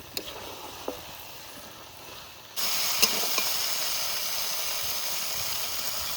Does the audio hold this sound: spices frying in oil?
yes